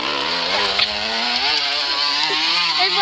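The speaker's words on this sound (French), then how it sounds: "Et voilà, ça fait le bruit d'une moto." A plastic bottle wedged against a turning bicycle wheel makes a loud, close, buzzing rattle like a motorcycle engine, rising and falling slightly in pitch as the bike rolls, with no talk.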